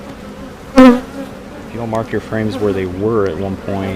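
Honey bees buzz around a hive frame during a beekeeping inspection, a close, continuous droning hum running beneath a voice talking throughout.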